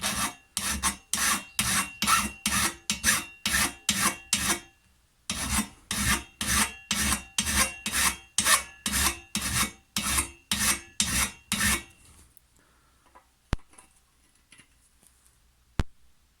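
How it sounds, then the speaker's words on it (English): A hand file rasps a bevel onto the steel tine of a cheap hollow tine aerator, in two runs of steady rhythmic strokes, close and distinct, ending in faint clicks. "file a bevel like that all the way around it"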